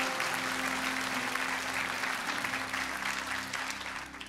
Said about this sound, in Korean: 우리 두 분 여러분 큰 박수로 환영해 주시면 감사하겠습니다